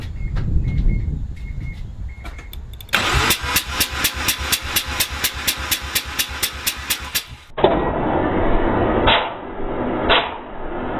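A Mazda RX-7 FD3S rotary engine with low compression on the front rotor cranks over on the starter during a compression test, a loud, fast, even pulsing lasting several seconds, then cutting off abruptly.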